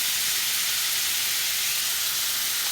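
Mushrooms heating in a pan for teriyaki mushrooms beside a Delmonico steak, a steady, loud sizzling hiss that holds unchanged throughout, close up, with no talking.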